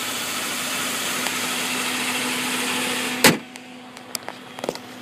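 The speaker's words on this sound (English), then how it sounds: "Just listening to the engine run." A car engine idles with a steady, even hum, then a sharp click cuts the running sound to a near-quiet, leaving a few faint ticks.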